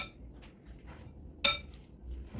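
A utensil scrapes and clinks against a bowl while cottage cheese and eggs are mixed, soft intermittent stirring with one sharp ringing clink near the middle, close and quiet with no talking.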